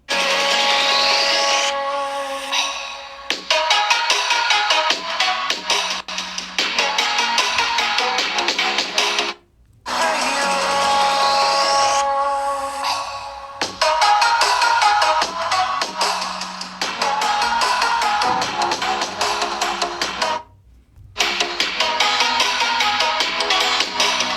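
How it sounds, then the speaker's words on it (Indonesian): Ringtone melody from an Infinix Note 30 phone's JBL-tuned speakers, loud and continuous with bright tonal notes, repeating in phrases separated by two brief pauses, no talking. "untuk speaker di sini kita coba bandingin antara kedua HP ini ya, yang sama-sama dituning oleh JBL"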